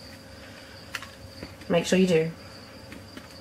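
Feeder crickets chirp and buzz faintly in the background while a person briefly speaks over them.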